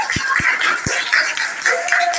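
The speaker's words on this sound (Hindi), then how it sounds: "ताली बजाओ हमारे गुरु जी के लिए।" Children in a Sanskrit grammar class clap for their teacher, a short spell of scattered claps with a few sharp distinct hits over a bright clatter, close and fairly loud, lasting about two seconds.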